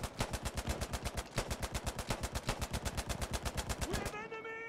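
Rapid automatic gunfire in a video game, a dense, evenly spaced burst of loud shots lasting about four seconds before cutting off into a brief ringing tone.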